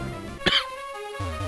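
A single short, harsh chesty cough from a man, close and sharp, cutting over faint game music from a Pokemon Emerald playthrough.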